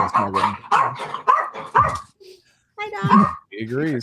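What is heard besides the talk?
dog barking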